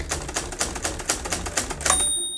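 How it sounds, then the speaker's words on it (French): Keys of an old manual typewriter clack in a quick, steady run of about a dozen close, crisp strikes, ending with a brief ringing tone. "nous allons voir comment on va placer une feuille correctement dans une machine à écrire"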